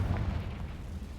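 The Confringo explosive spell cast in the video game Hogwarts Legacy, a short, low rumbling blast at moderate loudness that fades over about a second, with no talking.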